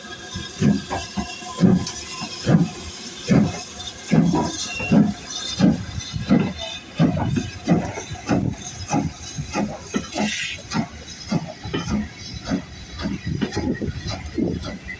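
A steam train on the Bluebell Railway heritage line passes close by with loud, rhythmic chuffing beats and a wash of hissing steam, with no talk.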